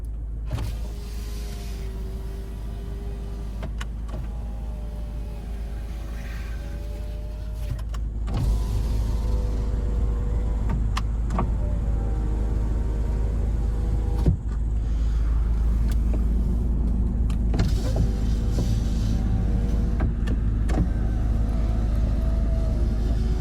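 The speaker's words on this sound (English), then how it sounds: "Driver's got an automatic window, up and down" Electric power windows on a 2002 Toyota RAV4 with 43k miles run up and down in repeated whirring motor strokes, close by inside the cabin over a steady low engine idle rumble.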